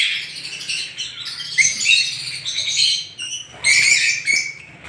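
Lutino lovebirds and ringneck parakeets in a breeding aviary chirp and squawk in a dense, continuous chorus of close, high twittering calls, with no talk.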